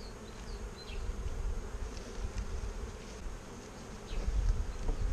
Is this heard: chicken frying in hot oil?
no